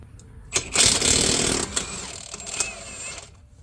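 An impact wrench rattles strut bolts loose on the front of a 2013 Toyota Camry SE. A sharp burst starts the main run of hammering, which lasts about a second, and a few shorter clicks and whirs follow close by.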